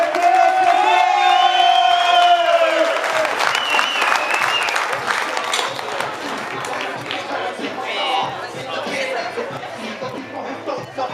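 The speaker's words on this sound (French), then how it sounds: "Un tonnerre d'applaudissements pour Montequila et El Parranos" Wrestling crowd at a CWF show bursts into loud, sustained applause with cheers and whoops, an announcer's voice over it at first, then settling into continuous clapping and chatter.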